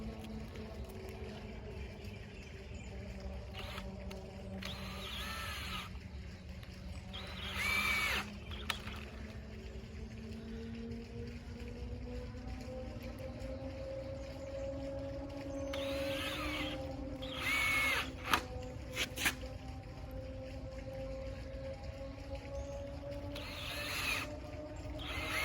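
A power drill drives screws into bench boards without pilot holes, its motor whining and rising in pitch under load, with several bursts of higher-pitched driving and a ratcheting clatter between them.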